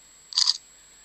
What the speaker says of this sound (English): You can always hear the shutter, can't you?